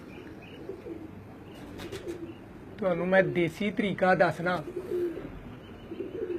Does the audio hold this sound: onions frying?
no